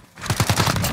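A fast burst of automatic gunfire from Call of Duty Modern Warfare multiplayer, several quick close shots in a tight rhythm, loud and alone.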